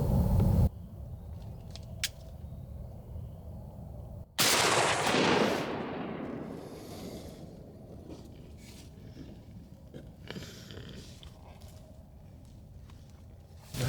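A single loud rifle shot fired at a nuisance deer about 100 yards off cracks out after a quiet outdoor stretch, its blast rolling into a long fading echo before calm ambience returns.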